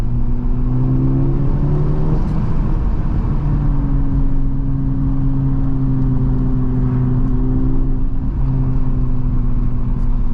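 A 2023 Honda Civic Type R with an AWA Touring exhaust gives a steady, loud engine and exhaust drone from inside the car, its pitch shifting once early on and then holding steady over road noise.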